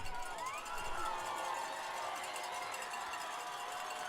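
Crowd at a high school football game between Starr's Mill and Harris County, a distant, steady roar of cheering spectators filling the stadium, with a commentator speaking over it.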